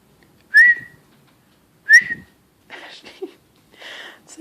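A person whistles to a pet parrot indoors: two short, clear rising whistles a second apart, followed by softer rustling and chattering noises.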